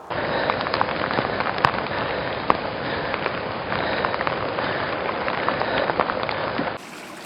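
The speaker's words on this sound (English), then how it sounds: "the weather forecast this afternoon is for heavy rain and thunderstorms" Heavy rain pours steadily during an afternoon thunderstorm, a dense, even hiss of drops hitting surfaces with a few sharper pops, continuing loudly until it cuts off near the end.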